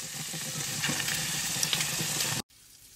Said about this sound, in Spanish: Acabo de abrir la sopa que les dije de broccoli. La voy a echar en una cacerola.